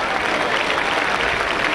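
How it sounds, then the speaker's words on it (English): A rugby league crowd at a 1996 Leeds versus Halifax match cheers and applauds after a successful kick, a dense, loud, steady roar of clapping and voices throughout. "The cheers of the crowd and the touch judge flags indicate so."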